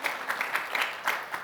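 An audience applauds in a brief patter of scattered handclaps, moderately loud and fairly close, with no voices over it.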